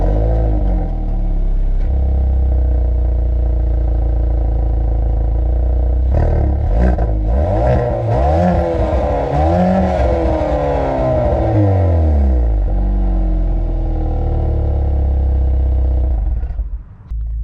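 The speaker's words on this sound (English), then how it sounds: "This is powered by a 2-liter turbo 4-cylinder, making 275 horsepower and 260 pound-feet of torque" Hyundai Veloster N with a 2-liter turbo four-cylinder engine and 8-speed DCT revving loudly, a sustained close engine roar that climbs and sweeps through several rising and falling revs before cutting off.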